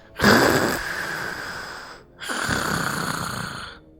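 A person imitates a lizard-like hissing breath, two long raspy exhales, each starting with a strong breathy hiss that slowly fades, separated by a short pause.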